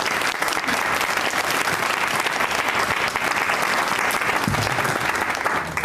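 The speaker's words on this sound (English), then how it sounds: "giving me the committee, co-chairs, and everyone who made this event possible a round of applause" Audience applause for a youth conference committee and co-chairs at a community board monthly meeting, steady dense clapping filling the room throughout, loud and continuous with no talk over it.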